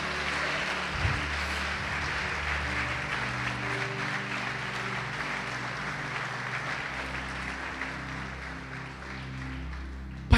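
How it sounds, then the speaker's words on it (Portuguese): A church congregation applauds steadily and fairly loudly for about ten seconds, a dense continuous clapping with little variation, ending in a sharp knock. "Pode aplaudir, glorificar Jesus."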